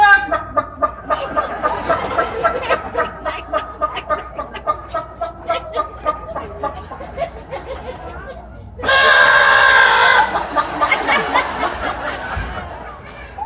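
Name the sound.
man imitating a chicken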